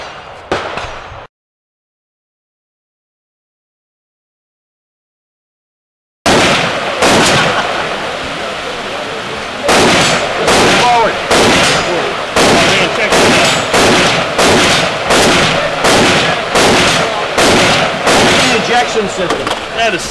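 A Krebs Custom AK-47 rifle fires outdoors in a rapid string of loud, sharp shots, steady and close, after a short burst of talk and a silent gap.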